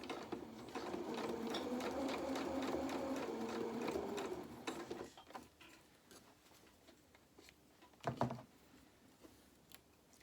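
A sewing machine stitches a reversible winter cape for a toy rabbit doll, a soft steady rattle of rapid stitches for about five seconds, then stops, followed by scattered handling clicks and a brief rustle.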